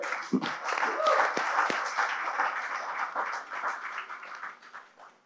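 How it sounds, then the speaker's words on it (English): An audience at a corporate CXO panel on BFSI partnerships gives the speakers a round of applause: a brisk burst of clapping that stays full for a few seconds, then gradually thins and fades out. "I would really want a round of applause for our speakers here"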